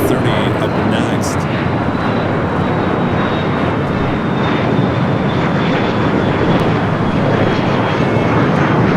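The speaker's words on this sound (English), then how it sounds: "We got that Hawaiian A330 up next" Hawaiian Airlines Airbus A330 at LAX airport, a loud, steady broadband jet roar that holds at full strength throughout, with a faint high whine drifting slowly downward.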